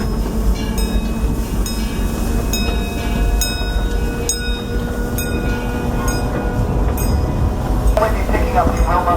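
The small Disneyland Railroad train rolls along steadily with rhythmic clacking of wheels and occasional metallic squeaks, loud and close throughout.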